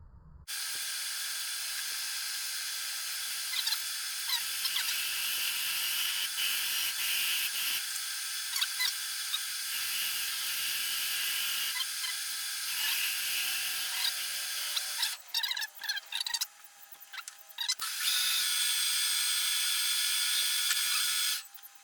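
Lathe cutting a relief with a small radius tool while turning a part for an injection machine, giving a steady broadband hiss and whir with a brief break, and no talk.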